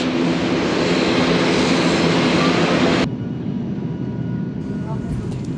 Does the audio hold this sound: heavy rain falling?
no